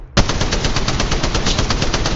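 Sustained automatic gunfire from an Apex Legends Mobile match, a loud rapid burst that starts abruptly and keeps hammering in a fast even rhythm with no talking.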